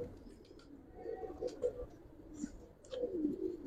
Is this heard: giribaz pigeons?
yes